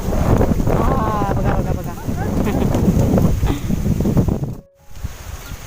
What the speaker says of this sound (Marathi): हा बघा किती वारा. आवाज घ्या वाऱ्याचा.